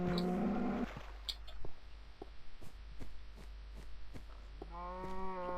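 Cows mooing in the video game Minecraft, a low drawn-out moo at the start and another near the end, with steady clicking and tapping in between, no talk.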